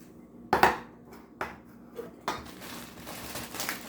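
Canned chickpeas dropped into a bowl, a few separate clattering knocks of can and bowl in a quiet kitchen, each brief and close.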